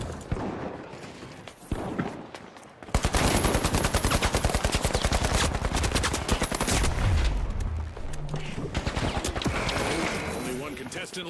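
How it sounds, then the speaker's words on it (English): In The Finals, sustained rapid gunfire and explosions crackle and pound in a continuous barrage, starting suddenly and staying loud throughout, with a voice talking at times in the background. "Ooh, everything's exploding."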